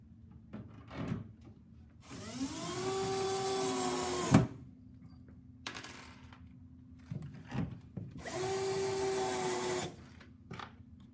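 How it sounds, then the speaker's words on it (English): A power drill drives screws into the mounting of a Hafele iMOVE pull-down storage shelf in a frameless kitchen cabinet. Two long, loud whirring runs each climb in pitch, separated by brief clicks and handling knocks, with no one talking. "for permanent installation, we'll go ahead and put some screws in there."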